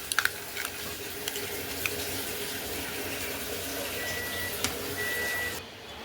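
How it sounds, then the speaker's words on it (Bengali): A microwave oven warms a dish of curry in a home kitchen, giving off a steady low hum with faint hiss and a few light clicks, ending with the hum cutting out near the end. "তরকাটা মাইক্রোওভেনে গরম করব"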